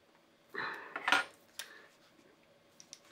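Metal parts of a JagerWerks A1 accessory mount clicking and clinking against a rifle rail while it is cranked down tight, a few brief close-up metallic taps in a quiet room.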